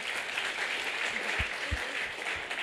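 Audience applause at a school debate prize session, a steady wash of distant clapping from a hall crowd, even and sustained throughout.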